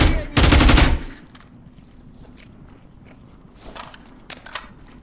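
Gunfire in the VR shooter Onward, played on a Meta Quest 2: a loud, rapid burst of automatic fire at the start, then a quieter stretch with scattered faint pops and clicks.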